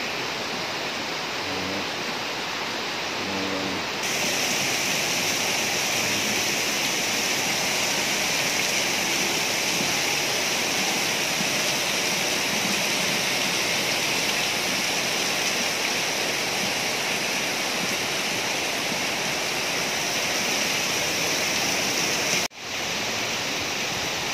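Rushing floodwater during a typhoon with heavy rain, a loud, steady broadband roar that fills the whole stretch and swells slightly after the first few seconds, then drops briefly near the end.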